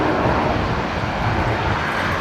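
An airliner lands at Brisbane Airport in a gusty crosswind, a loud, steady, broadband engine and rushing roar close by.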